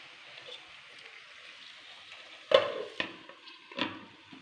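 Chicken frying lightly in a pan at home, a soft steady sizzle running throughout, broken by a few sharp clanks and scrapes from stirring near the end.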